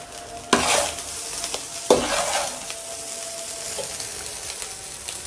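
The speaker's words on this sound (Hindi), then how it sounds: "इसको मैं तेज़ फ्लेम पर पका ली, फ्राई कर ली" Chicken fried rice with spring onions is tossed on a high flame, two sharp bursts of stirring scrape and hiss against a steady loud sizzle that carries on after, close by with no talking.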